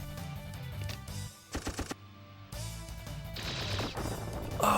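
Curiosity Gun firing in the video game Cyber Doll: a quick rattling burst of several sharp shots, a brief silence, then more clattering impacts under game music and effects.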